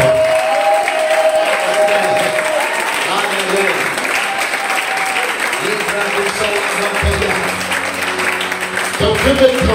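A church congregation applauds and cheers steadily throughout, a dense sustained wash of clapping and crowd voices with a preacher's voice speaking over it.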